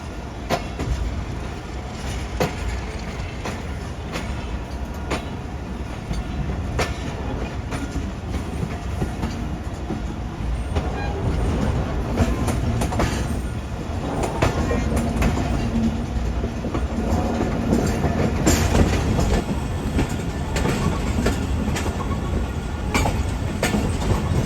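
Millat Express train 8039, heading toward Faisalabad, rolls along the rails with a continuous loud rumble, rhythmic clickety-clack from the wheels and faint squeals, heard from inside the carriage without talk.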